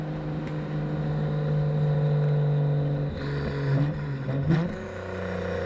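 A Nissan Skyline GTR R34 engine runs with a steady, loud drone that rises and falls as the revs shift, with a brief swell and dip near the end, alone without talk.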